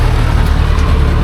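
A motorcycle engine idles close by on a Philippine road, giving a loud, steady low rumble with an even, continuous pulse and no talk.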